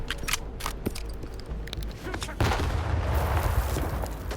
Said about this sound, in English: Nice grenade, dude.